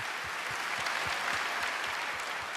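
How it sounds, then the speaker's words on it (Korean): A church congregation claps together in thanks to God at a revival festival lecture, dense steady applause filling the room throughout, no speech over it. "하나님께 감사의 박수를 올려드리겠습니다."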